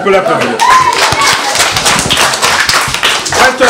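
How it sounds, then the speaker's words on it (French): Children in the audience of a magic show clap together in a brief burst, lively overlapping hand claps close by, with voices mixed in. "Là, on peut l'applaudir."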